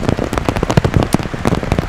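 Heavy downpour of rain at an outdoor equestrian eventing showcase in Aiken, loud and close, with dense rapid drops pattering and crackling on a nearby surface throughout.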